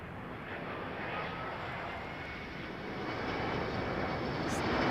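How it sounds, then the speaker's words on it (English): Cathay Pacific Airbus A350-1000 on landing approach to runway 09L at London Heathrow, a steady broadband jet roar that holds evenly and swells slightly louder toward the end, with no talk. "It's Cathay Pacific's A350."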